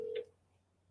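A single short telephone keypad tone beeps loudly at the start of a phone call, then gives way to a faint, quiet line hum.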